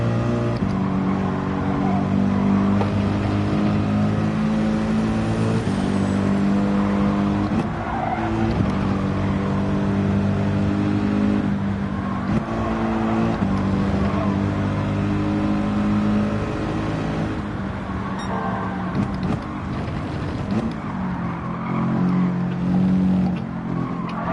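Race car lapping in Gran Turismo 7 at the Deep Forest track, engine droning and rising and falling through gear changes with bursts of tire skid, loud and continuous throughout without voices.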